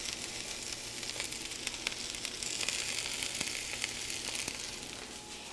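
Onions and mushrooms sizzle steadily on a griddle for Philly cheesesteak, a loud continuous frying hiss with scattered crackles and pops throughout, no talking.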